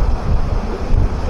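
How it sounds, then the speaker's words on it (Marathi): High-tide waves surge at Gorai Beach in Mumbai, a loud, low rushing roar of surf mixed with heavy wind buffeting the microphone, with no voices. "इथे अशा भयंकर लाटा अशा येत आहेत."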